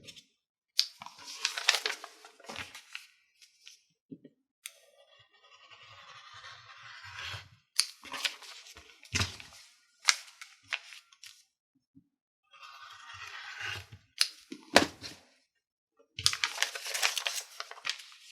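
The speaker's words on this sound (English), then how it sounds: "Now I'm able to actually cut my pattern piece out" Scissors cut out a pinned fabric pattern piece in scattered bursts of close crisp snipping and crinkly paper-and-cloth rustle, separated by quiet pauses.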